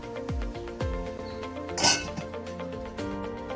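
Metal clinks and clatters as a lid is set onto a pot of beans cooking, a few sharp knocks and one brighter scrape, with no talking.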